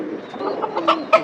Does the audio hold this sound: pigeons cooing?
yes